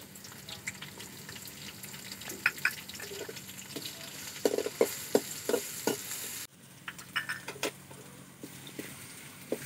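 Garlic sizzles in a pan and a spoon stirs it, scraping and tapping at close range. Soft, steady frying runs underneath, with a brief dip partway through.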